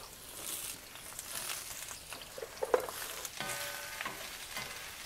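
Peppers and onions sauté in a hot pan, giving a steady close sizzle with scattered clacks and scrapes from stirring, and no one speaks.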